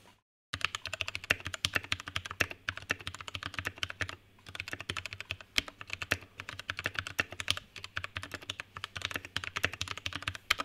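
Rapid typing on a lubed Vortex Series VX5 mechanical keyboard, close and distinct, with dense clacky keystrokes and a few short pauses after a brief silent start.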